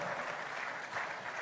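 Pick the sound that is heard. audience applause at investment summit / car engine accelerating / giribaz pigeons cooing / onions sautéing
audience applause at investment summit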